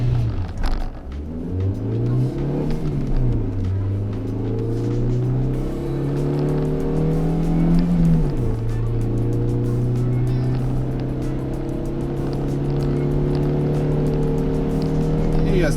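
An unloaded Dacia Lodgy accelerates hard in a 0-90 km/h test, its engine note climbing steadily and dropping at gear changes before settling into a sustained drone.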